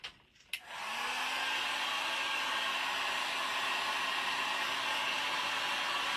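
A hair dryer blows steadily on a craft project, switching on after a brief clatter and then holding a loud, even whoosh with a faint motor hum for several seconds, alone without talk.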